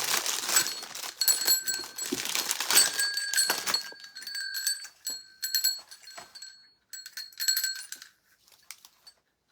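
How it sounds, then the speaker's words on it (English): Small decorative bells for a rustic Christmas swag craft jingle and clink as they are handled, with dense shaking at first, then scattered bright tinkles and a few crinkling rustles tapering off. "I also have the smaller bells."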